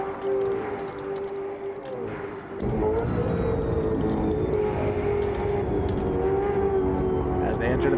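A race car engine in a sim racing game drones steadily throughout, with a sharp rise in roar partway through as the car accelerates, while a commentator talks over it.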